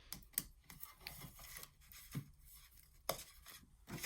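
A blade or scissors cuts the corner of 12x12 paper for a mini album folder, making faint, close, scattered scraping strokes with a couple of sharper snips.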